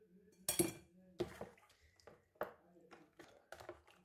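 Clinks of a utensil against a container as lemonade with a little vanilla is mixed, several sharp taps spaced irregularly, close and moderately loud, with speech between them.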